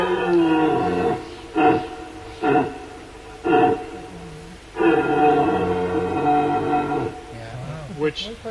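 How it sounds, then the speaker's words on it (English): A buck deer in Northern California grunts repeatedly, giving a series of loud, close, throaty calls in uneven bursts separated by short pauses. "That's a buck grunt."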